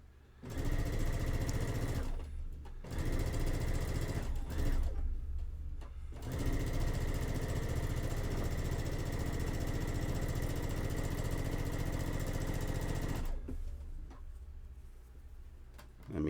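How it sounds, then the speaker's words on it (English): A sewing machine joins an unsashed quilt block to a sashed one in several long runs of steady, close, rhythmic whirring, with brief pauses between runs. "I am going to be sewing a unsashed block to a sashed block."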